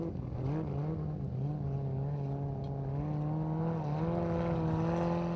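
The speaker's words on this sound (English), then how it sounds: "the Soap, the only car that still uses a carburetor. The different sound is because of custom headers." Formula offroad car with a carburetor and custom headers revving, a steady engine note with small pitch rises, heard from a moderate distance at an Icelandic competition in Akureyri.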